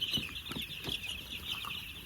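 Sonali chickens cluck in a poultry shed, quiet rhythmic clucks repeating a few times over a steady background hum, fairly faint and without speech.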